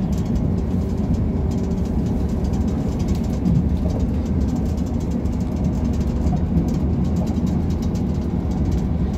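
Inside a carriage of EMR class 158 train 158863, a steady low rumble of wheels and engine drone fills the cabin continuously, with faint rattles and no voices.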